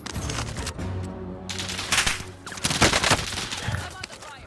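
Mac-10 submachine gunfire in the video game Warzone, rapid bursts of sharp automatic shots mixed with game effects, fairly loud and dense, with another burst rising toward the end.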